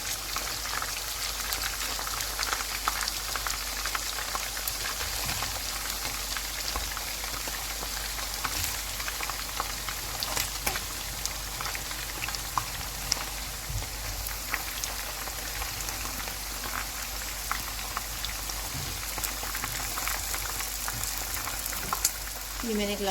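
Tomatoes frying with garlic in a chicken karahi, a steady dense sizzle and crackle throughout, close and fairly loud, with faint stirring or clatter near the end.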